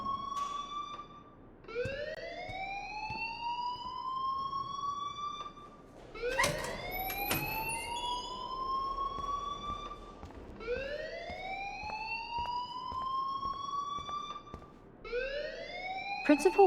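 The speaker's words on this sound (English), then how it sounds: "please turn off that alarm since that's your job" A school fire alarm in the video game Life is Strange wails in repeated rising electronic sweeps, one after another in a steady cycle, loud and close.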